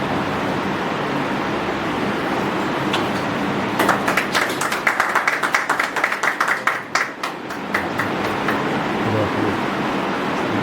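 An audience at a Tamil astrology talk claps to honour a guest, a dense burst of hand clapping rising after a few seconds of room noise and lasting about four seconds before fading back into background hum.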